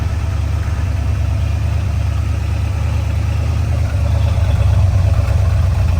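A V8 engine idling roughly and misfiring, close and loud, with a steady low rumble broken by uneven pulses and slight stumbles, continuing without speech.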